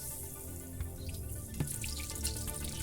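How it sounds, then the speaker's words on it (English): Water poured from pitchers splashes and trickles onto a concrete slab, a continuous wet pouring with small splashes and drips, close and fairly loud. "Laszlo and Ephraim quickly grab the pitchers of water and quietly marinate the slab with wetness."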